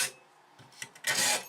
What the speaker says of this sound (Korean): 확실히 톱질 느낌이 철과는 다릅니다.